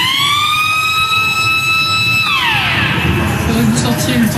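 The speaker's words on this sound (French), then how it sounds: "C'est le son de l'alarme générale." A loud, steady electronic prison general alarm siren wails with rising and falling tones, filling the space with background noise underneath.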